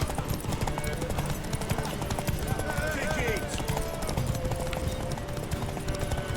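Rapid rhythmic hoofbeats of a galloping horse in The Witcher 3: Wild Hunt pound steadily throughout, with a brief spoken line and faint other sounds mixed in.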